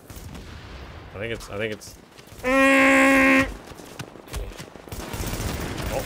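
Gunfire in The Division, with rattling shots and a loud sustained tonal blare in the middle, while someone talks over the action.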